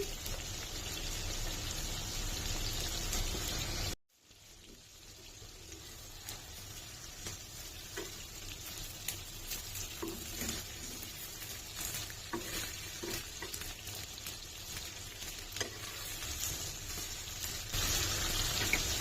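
Beaten, lightly salted eggs fry in white cooking oil with a soft, even crackle, briefly dropping out before resuming and building slightly louder toward the end, with no voices over it.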